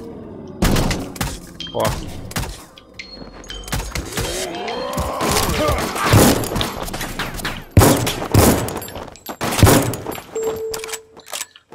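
Bursts of gunfire in the shooter game RICO crack out in loud irregular volleys, with whooshing effects and thuds between the shots.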